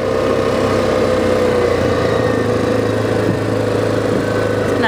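A car engine hums steadily and loudly while driving along a road toward Mal Pais, a constant low drone with road noise filling the whole stretch.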